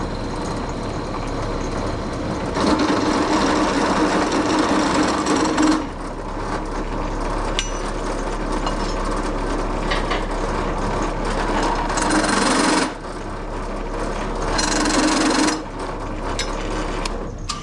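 A step drill bit bores 3/8-inch holes through the steel radiator core support of a first-generation Camaro, a loud sustained grinding whir that runs in long bursts with brief drops in pitch between cuts.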